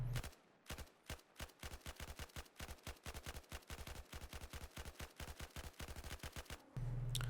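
Rapid bursts of M249 light machine gun fire in Battlefield 4, fired at long range, a dense run of loud sharp reports packed closely together for several seconds.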